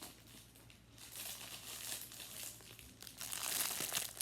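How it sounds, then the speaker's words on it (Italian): Scissors snip and crinkle through the plastic packaging of an action figure, a steady close crackling of stiff plastic that grows louder toward the end, with no talking. "adesso l'apro con le forbici"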